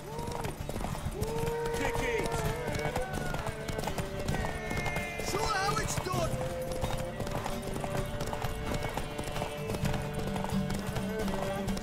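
A horse gallops in a race in The Witcher 3, with steady rapid clip-clop hoofbeats throughout, mixed with game music and occasional whinnies.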